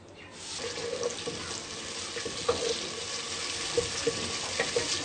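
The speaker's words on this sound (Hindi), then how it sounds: "जीरे को हम हल्का सा भूनेंगे।" Cumin seeds roast in a pan over softened tomatoes, a soft sizzle with a few light clicks and stirring sounds, close and fairly quiet, with no talking.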